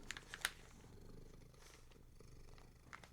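A cat purrs softly and steadily close by in a quiet room, with a few light crisp paper rustles near the start and again toward the end.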